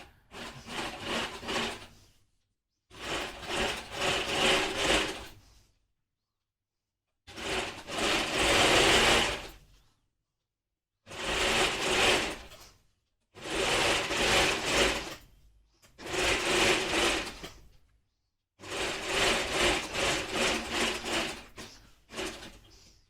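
Sewing machine stitching a garment yoke runs in seven separate bursts of steady, close whirring, each a second or two long and divided by short silences as the fabric is repositioned.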